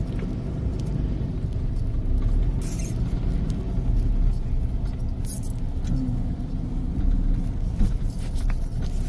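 Steady rain falls at night in Surat Thani, Thailand, a continuous broadband wash with soft pattering that stays even and fairly close throughout, with no talking.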